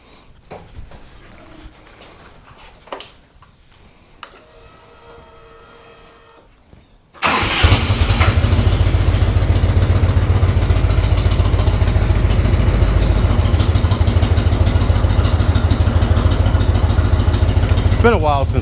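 After several seconds of quiet clicks and handling, a Victory Cross Country motorcycle cranks and fires, then settles into a loud, steady, rumbling idle that continues close by to the end.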